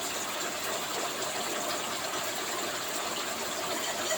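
Water gushes out of a pipe into crab boxes in a steady, hissing torrent, unbroken and fairly close throughout.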